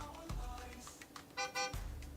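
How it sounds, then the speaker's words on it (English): A car horn honks twice in short loud blasts, separated by a pause, over low background noise. "Stop honking at me."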